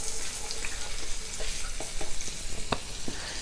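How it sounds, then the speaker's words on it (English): Diced onions frying in leftover chicken oil in a pan, a steady sizzle with scattered crackles and the light clatter of tossing, close and alone. "Using the residual oil, using the remaining oil that's in the pan, it's more than enough oil. So we're going to go ahead and add our diced onions."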